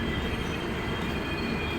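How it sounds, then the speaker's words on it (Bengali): A train rolls into a station with a steady, loud rumble of wheels on rails and a faint metallic squeal, continuous throughout with no voices. "ট্রেন ঢুকবে"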